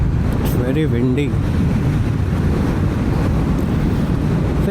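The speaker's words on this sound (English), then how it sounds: "very windy." Steady, loud wind buffeting the microphone, a constant roar throughout, with a brief voice-like murmur near the start, at Kuldhara village in Rajasthan.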